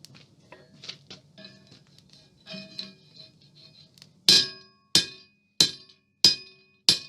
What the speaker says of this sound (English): hammer on it, turn the bar, and it'll add texture to the shaft.